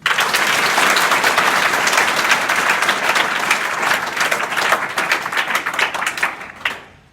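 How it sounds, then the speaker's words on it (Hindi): Schoolchildren at an upper primary school in Azamgarh burst into loud, dense applause, a sustained wall of clapping lasting several seconds before tapering off and stopping abruptly at the end. "आप लोगों से रिक्वेस्ट करूंगा कि आप लोग एक जोरदार ताली मारें"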